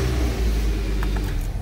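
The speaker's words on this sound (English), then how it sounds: "Let's see if it's gonna do our long crank here" A 2014 Nissan Altima with a 2.5L engine and a long-crank fault, heard as a loud, steady engine rumble close by with a slight rise near the end, no talking.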